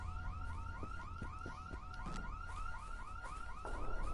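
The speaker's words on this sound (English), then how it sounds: "Turn the alarm off, it's so fucking annoying." Looping electronic car alarm in a video game, a rapid rising-and-falling whoop cycling steadily and loud over low rumbling game noise and scattered thuds, with no one speaking.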